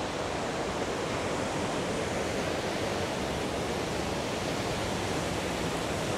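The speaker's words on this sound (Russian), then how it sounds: "Вода так шумит." Rushing water beside a cafe in a pedestrian town centre, a steady, loud, unbroken roar of broadband noise filling the whole stretch with no voices.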